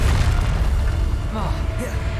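A Bombarda explosion spell in Hogwarts Legacy lands as a deep, rumbling boom that fills the short moment, followed by smaller crackling effects, close and loud.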